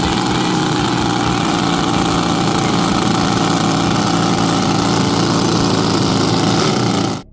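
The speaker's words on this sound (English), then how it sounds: "It's the mini supercharged V8 RC boat." A small high-revving mini supercharged V8 RC boat engine buzzes loudly and steadily at close range for several seconds, then cuts off abruptly.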